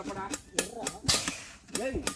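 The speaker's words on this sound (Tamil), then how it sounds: "யார் இன்னும் வெடி வெடிக்குது" Firecrackers burst in a Diwali setting outdoors, several sharp cracks spaced irregularly, fairly near, while people talk over them.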